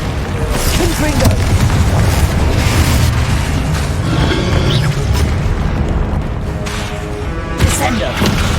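Confringo fire spell exploding in the Hogwarts Legacy video game amid a dense, loud, continuous rumble of booms and combat effects throughout, with a voice shouting spell names.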